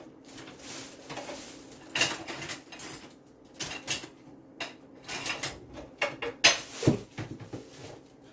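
Metal cutlery clinks and rattles in irregular bursts as a knife is picked out from among the silverware in a kitchen while breadfruit roasts in the oven, with scattered clatters of utensils up close and no talking.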